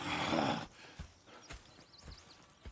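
Horses in Red Dead Redemption 2, a burst of rough snorting or whinnying followed by a few soft, sparse hoof thuds, fairly quiet and alone.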